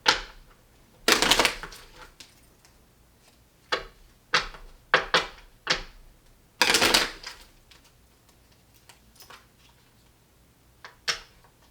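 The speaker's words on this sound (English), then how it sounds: "I'll make sure we'll do one more full shuffle here." A deck of tarot cards is shuffled in quiet, scattered bursts, with two longer riffling runs among short snaps and taps, close and alone without talk.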